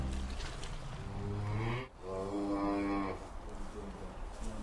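Cattle moo loudly and repeatedly on a farm after cows slated for TB slaughter are separated from their calves, long drawn-out lowing calls overlapping close by with a brief pause between bursts.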